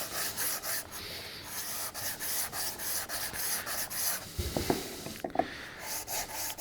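A handmade sanding stick rubbing against a small wooden box, a steady scratchy abrasive rasp in short repeated strokes close by, with a few louder knocks near the end.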